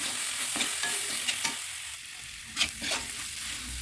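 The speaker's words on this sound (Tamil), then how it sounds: "இந்த மசாலா பொருள்லாம் போட்டு நல்லா அப்படி நல்லா வதக்கிடுங்க" Masala spices, garam masala and mutton masala, sautéing in a pan for egg kulambu, giving a steady close sizzle with scraping stir strokes and a few louder clicks, with no voices.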